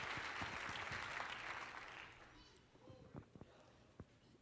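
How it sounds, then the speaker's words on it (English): A church congregation claps to welcome a young minister to the pulpit, a dense burst of applause that fades out after about two seconds and leaves a few scattered claps and small knocks. "I want you to clap your hands and let's receive Brother Cole as he comes at this time."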